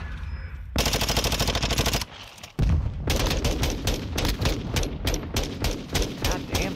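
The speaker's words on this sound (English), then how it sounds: "I baited him with my gunshots." Rapid automatic gunfire from a first-person shooter video game comes in loud, close bursts, with one long stream, a short gap and then quick rhythmic volleys. No voices are heard.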